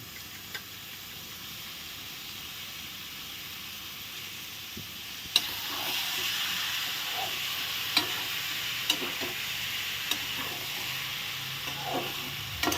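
Soybeans and boiled chickpeas go into frying spices in a pan, a quiet sizzle that jumps louder partway through, followed by steady stirring scrapes and occasional sharp clinks of the spoon.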